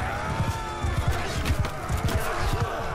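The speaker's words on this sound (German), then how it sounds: "Es war einfach nur ein Pferd." Rapid hoofbeats and a whinnying horse over a busy background in the game Mount & Blade II: Bannerlord, with a voice faintly underneath.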